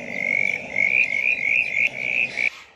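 A tiny brown tree frog calling up close, giving a series of loud, rapid, buzzy croaks in short bursts with brief gaps over a couple of seconds, with no voices.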